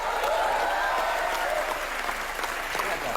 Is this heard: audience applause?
yes